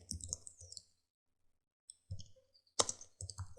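Computer keyboard typing, a few crisp clicks in a quick burst, a pause, then more keystrokes ending with a sharper press like the Enter key, close and clear, with no talk.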